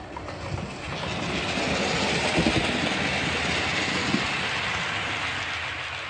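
A model railway train runs on a home layout after months out of use, giving a steady, close rumble with faint rhythmic clicking from the track throughout, and no talk.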